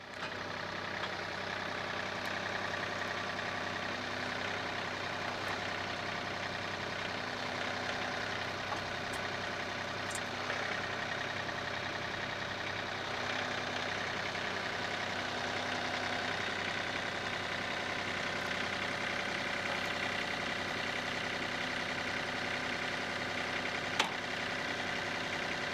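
A tractor engine runs steadily while positioning a 600-pound log for a Logosol sawmill, a continuous mid-pitched idle-like drone heard at moderate distance with a few faint clanks and no talking.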